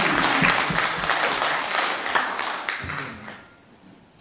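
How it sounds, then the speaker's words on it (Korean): Lively applause from an audience at a political speech, dense and crisp at first, then thinning and fading toward the close. "박수 한번"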